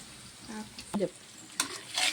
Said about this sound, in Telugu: పాలకూర వేసుకున్నాం కదండి మొత్తం ఒకసారి ఇట్లా కలుపుకోవాలండి